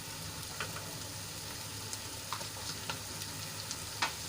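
Onion and finely chopped tomato sauté in a pan with a faint, continuous sizzle, dotted with occasional light clicks of stirring, close by and quiet.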